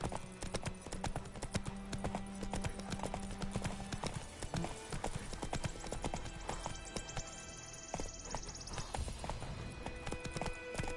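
Horse hooves clip-clop steadily in The Witcher 3, a brisk rhythmic trot heard close, with game music and ambient sounds underneath.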